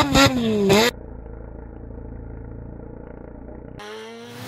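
A Mazda Renesis rotary engine revs hard in two short bursts at the start and end, with a steady, rough idle rumbling between them.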